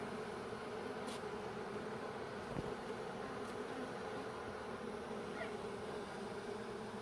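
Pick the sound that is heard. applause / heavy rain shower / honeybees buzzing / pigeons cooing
honeybees buzzing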